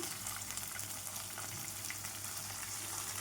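Raw prawns added to fried onions in a pan for a ridge gourd curry sizzle with a continuous, even hiss, fairly faint and close, with no talking.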